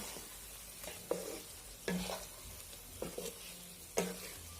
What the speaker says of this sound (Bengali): এখন আমি ভেজে রাখা আলু এবং ডিমগুলো দিয়ে দেব। ভালোভাবে নেড়েচেড়ে মশলার সাথে মিশিয়ে নেব।